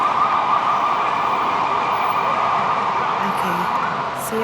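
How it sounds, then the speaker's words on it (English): A steady emergency-vehicle siren wails in a Portuguese city street, sustained and fairly loud over traffic background noise throughout. "We'll miss the sirens too."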